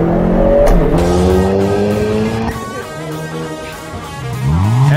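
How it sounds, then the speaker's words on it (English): A 2022 Hyundai Kona N is driven hard in N track mode: a loud, close engine revs with climbing and falling pitch, tires squealing as it accelerates and shifts. "in N mode, the all-new Kona N completely transforms into a track machine"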